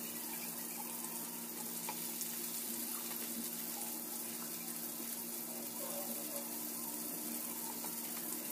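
White fish frying in a pan for a quick fish fry, a constant faint sizzle and hiss running steadily throughout.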